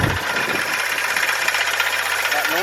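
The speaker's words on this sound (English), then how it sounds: "The idler pulley is definitely going bad." A car engine idling with a failing idler pulley, a steady close mechanical hum and rattle with a fast ticking clatter running through it, with a voice faintly under the noise.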